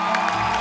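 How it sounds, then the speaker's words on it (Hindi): Studio audience on a comedy TV show cheers and whoops for a singer, a brief burst of crowd noise with shouting and clapping. "तो आप सबकी जोरदार तालियों के बीच इनवाइट करना चाहूंगा"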